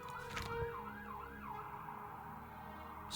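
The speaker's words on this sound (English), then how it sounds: "Sirens on this time of night?" A wailing siren in the video game Oblivion Remastered rises and falls repeatedly, fairly distant and faint, over a low steady background hum.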